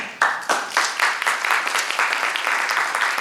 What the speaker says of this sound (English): give a round of applause then to Ryan